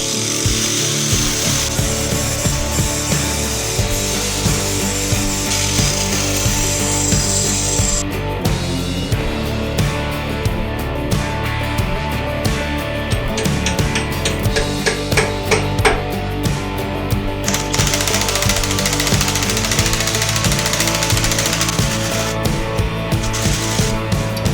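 An angle grinder works on metal on a car, clearing a small piece out of the way of a bolt. Loud, harsh grinding runs close and continuous with uneven surges and rattling bursts, and no talk.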